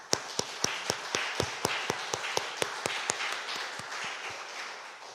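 A church congregation claps for the sons at a prayer-school gathering, with loud, fairly regular rhythmic claps in a steady beat over a softer bed of scattered clapping that thins and fades near the end.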